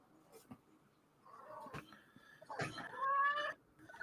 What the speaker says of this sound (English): This cat just meowing.